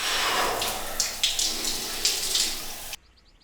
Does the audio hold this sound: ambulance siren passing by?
no